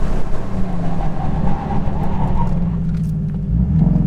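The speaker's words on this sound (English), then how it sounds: "I'm gonna hit the brakes just to see how this thing feels." A tuned 2018 Porsche 718 Boxster slowing under braking, its steady engine and road rumble filling the cabin at a constant, fairly loud level with no voices.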